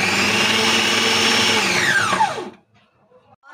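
An electric chopper whirs loudly and steadily as it chops green chillies, capsicum and coriander, then winds down with a falling pitch and stops, leaving near silence.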